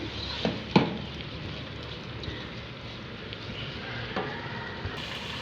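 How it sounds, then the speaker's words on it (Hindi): Beef pieces and almonds fry in a pan for beef korma, giving a steady, soft crackling sizzle with a few sharper clinks from stirring. "अब 1 मिनट के लिए इसको लेंगे भून।"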